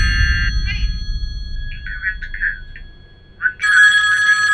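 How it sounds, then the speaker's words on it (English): A telephone rings loudly and close with an electronic ringtone in short, repeated bursts separated by brief gaps, over a low background rumble. "Hey, is that the phone?"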